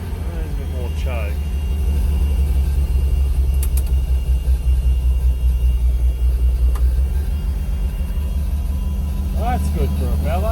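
A farm tractor engine idles steadily in a shed ahead of canola sowing, a continuous low rumble that stays close and loud throughout, with short bursts of talk over it.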